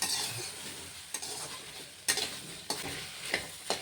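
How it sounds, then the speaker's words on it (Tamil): Okra (ladies finger) frying in a kadai gives a soft, continuous sizzle, with several scraping stirs and clatters at irregular intervals. "இந்த மாதிரி காயை வடைச்சட்டியில நல்லா வறுத்தெடுத்துடலாங்க."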